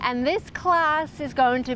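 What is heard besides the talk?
No distinct noise like a dog, phone or traffic.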